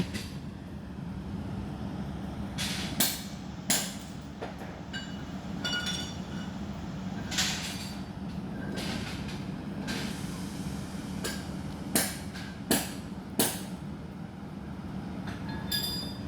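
A passenger train pulls into a station and halts, with a steady low rumble of the cars under a series of sharp metallic clanks and squeals from the wheels and couplings.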